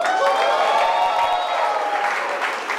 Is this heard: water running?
no